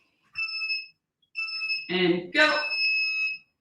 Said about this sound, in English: I certainly hope that that clock sounds better to you than it does to me right now, because that is a sad beeping sound